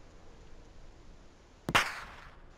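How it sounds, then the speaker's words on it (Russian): A sniper rifle shot in the military game ARMA 2 at night: one sharp, loud crack that rings briefly and fades over a quiet background hiss. "Вот слышишь звук его выстрела?"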